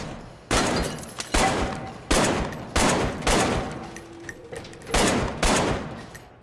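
Repeated shots from a gun in the VR shooter Arktika.1, about eight loud, close blasts in irregular bursts with short decaying tails and quiet gaps between some, no voices over them.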